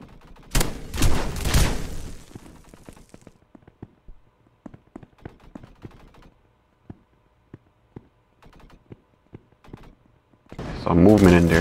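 Gunfire in the Roblox shooter Energy Assault: a loud burst of rapid shots up front, then scattered single distant pops and taps, and a final loud burst, with talk heard at times.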